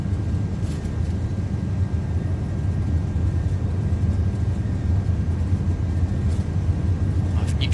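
Airbus A330 jet engines roar steadily at high power during a takeoff roll in Microsoft Flight Simulator 2024, a continuous, loud broadband rumble with a deep low end that stays constant throughout.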